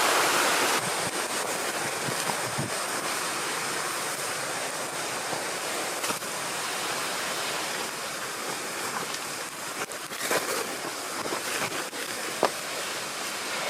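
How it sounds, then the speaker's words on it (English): A rainforest waterfall roars as a loud, continuous broadband rush of falling water, close and unbroken throughout, with a few faint knocks of movement and no talk. "We're gonna go over this waterfall here."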